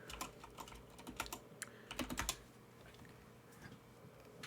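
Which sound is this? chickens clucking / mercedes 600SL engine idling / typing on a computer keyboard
typing on a computer keyboard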